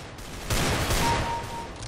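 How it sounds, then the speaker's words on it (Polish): Desert Eagle pistol shots in Counter-Strike: Global Offensive, a loud broadband burst of gunfire starting partway through and sustained, with no talk over it. "dwa strzały z digla"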